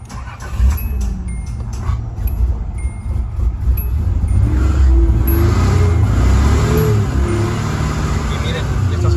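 1986 Nissan 300ZX 3.0 engine, a car with several replaced parts that had been failing to start, cranking and catching after brake cleaner spray, then idling and revving with a rising, rough low rumble, close up, while someone talks over it.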